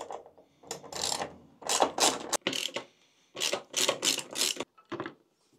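Screws being backed out of a car's interior trim panel, heard as a series of short, close ratcheting and scraping bursts separated by brief pauses.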